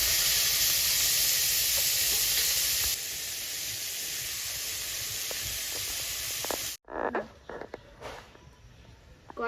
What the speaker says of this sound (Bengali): মাছগুলো এবার দিয়ে ভালো করে ভেজে নেব।